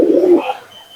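Loud, close pigeon coo in a loft, a single rolling low call that fades quickly into quiet.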